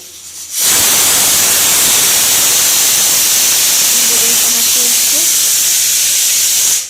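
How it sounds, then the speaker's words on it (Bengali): Potatoes frying in a pan give a loud, continuous hiss that starts abruptly after a short quiet moment and holds steady, with a faint tonal whine briefly in the middle. "আলু ভাজা বসিয়েছি,"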